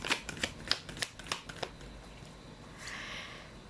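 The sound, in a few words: shuffling tarot cards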